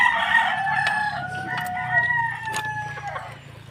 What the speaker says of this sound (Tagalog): So, ito pala, mga manok.